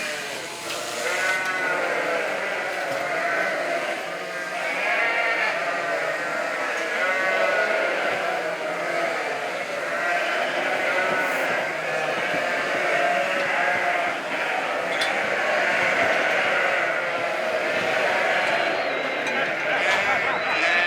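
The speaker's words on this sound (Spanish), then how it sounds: "vamos a sacar estas ovejas" A flock of sheep bleats continuously as they are let out of their pen, many overlapping cries near and far forming a dense, loud chorus, with people's voices mixed in underneath.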